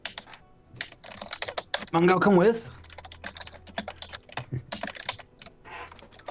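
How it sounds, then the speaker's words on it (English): Rapid clicking keystrokes on a computer keyboard carry on throughout, up close and under people talking, with one louder voice burst partway through. "He's typing."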